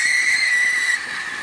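Atomic stovetop coffee machine at peak pressure, letting out a loud, steady high steam hiss with a whistling tone that holds for over a second, then eases slightly.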